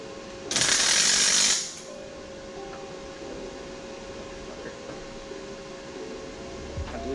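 A cheap MIG welder lays one tack weld on a turbo manifold flange, a single loud, hissing crackle of about a second over a quiet electrical hum, followed by faint workshop clinks.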